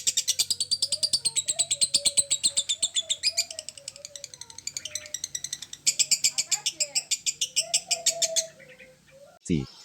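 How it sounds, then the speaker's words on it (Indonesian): A lovebird sings alone and close, a long run of rapid, bright chirps and trills with short pauses, ending in a sudden knock. "kenapa suara dobelan pada Lovebird susah keluar"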